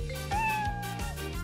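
A house cat meows loudly and close by, giving one drawn-out meow followed by a shorter one, with no talking.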